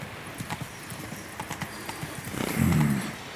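Roach, Geralt's horse in The Witcher 3: Wild Hunt, clip-clops along in a light rhythmic run of hoof beats, then a louder, heavier rumble of hooves as it pulls up near the end, mostly alone under faint game ambience.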